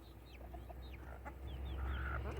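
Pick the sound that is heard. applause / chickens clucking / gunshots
chickens clucking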